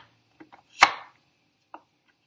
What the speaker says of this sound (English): I'm just sort of chopping it how I like it, to the size I like.